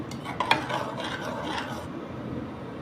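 Beetroot and tomato chutney stirred in a pan, a soft rubbing scrape with a couple of sharper clinks of the spoon early on, close and quiet.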